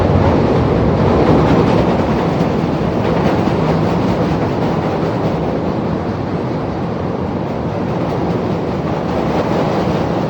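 Elevated city train on a Chicago Loop rail line rumbling past nearby with a steady loud roar and rhythmic clatter of wheels on track for about ten seconds, no talk over it.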